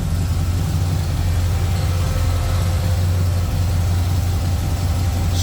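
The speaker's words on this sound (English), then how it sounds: "Smooth running V8, no doubt about that." A 1948 Ford Super Deluxe V8 with an Edelbrock intake manifold, dual four-barrel carburetors, headers and an electric pusher fan idles smoothly, a steady close low rumble with no voices.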